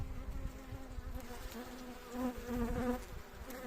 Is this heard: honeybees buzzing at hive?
yes